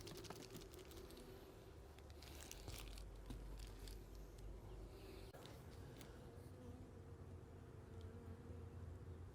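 A queenless honeybee hive gives off a steady, dense roaring hum that fills the whole stretch, with faint crackles and small knocks from the hive scattered over it.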